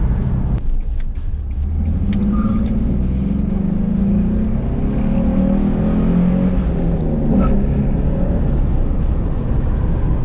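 A Datsun 260Z with a freshly fitted clutch drives along, its engine droning low and steady from inside the car with a slight rise in revs partway through.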